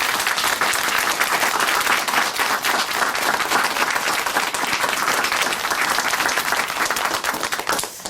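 Studio audience at a Korean Christian testimony broadcast giving sustained applause, a dense, loud wash of clapping that carries evenly for several seconds and thins slightly at the close, with no speech.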